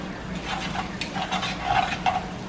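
Onion is stirred into beans and egg cooking in a pan, giving soft scraping and stirring strokes over a faint sizzle, with light utensil taps against the pan and no voices.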